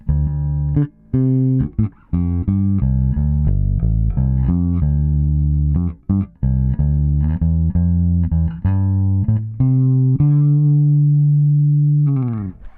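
A Castedosa Conchers short-scale bass guitar in aged Cadillac Green plays alone, with warm, round low notes in a plucked melodic line that ends on a long sustained note, close and clear with no talking.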